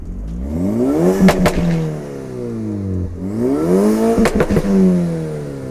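A Volkswagen Golf 5 GTI Stage 1 engine revs hard twice, pitch climbing then falling with crackling exhaust pops at each peak, loud and close, heard from outside the car.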